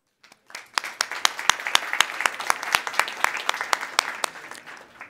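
Applause from a conference audience at an international programme launch, starting with a few scattered claps and building into steady, sharp, fairly close clapping that carries on to the end.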